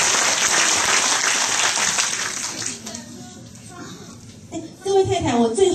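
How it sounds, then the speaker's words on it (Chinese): Audience applause at an indoor talk on renovating old houses, a dense wash of clapping that swells loud at first, then thins and fades while a voice speaks over the tail. "那我们也给她掌声鼓励一下"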